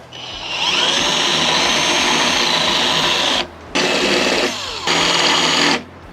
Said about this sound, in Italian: Poi allarghiamo il foro, così almeno la testa della vite entra bene dentro.